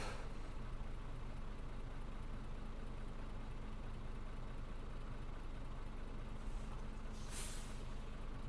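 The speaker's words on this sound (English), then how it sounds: "Sorry about the harsh braking, everyone." Bus air brakes in the OMSI 2 driving simulator, a steady loud engine and road rumble with a sharp hissing burst of air brake release near the end.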